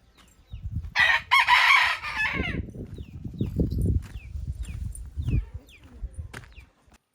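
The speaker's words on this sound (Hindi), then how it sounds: "मुझे रास्ते में एक मुर्गा मिल गया है, देसी।" A rooster crows loudly once near the start, then several low clucks follow amid background rustling.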